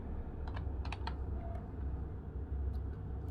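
Text being typed on a computer keyboard: a quick, irregular run of light key clicks, close and fairly quiet, over a steady low background hum.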